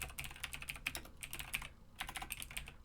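Rapid typing on a computer keyboard, close and quiet, with bursts of quick key clicks separated by short pauses.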